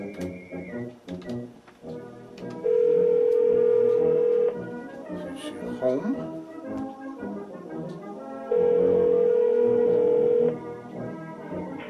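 Telephone dialing and ringing, with quick dial tones followed by two long, steady ring tones separated by a pause, while a voice speaks briefly between them.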